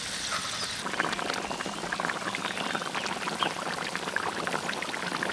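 A male fish simmers in a pot with freshly picked chilies, a steady close bubbling and sputtering that continues without a break and with no talk over it.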